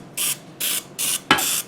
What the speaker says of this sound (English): avocado oil and spray our potatoes